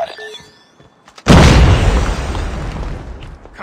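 A frag grenade in Call of Duty gameplay bursts with a sudden, loud, close boom after a quiet lead-in, followed by a long rumbling decay that fades slowly over several seconds.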